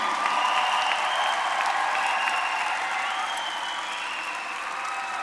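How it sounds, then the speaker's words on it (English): New graduates at a college fall commencement ceremony applaud themselves, a dense, steady wash of many hands clapping that fills the space evenly and fades slightly toward the end. "Please give yourselves an additional round of applause."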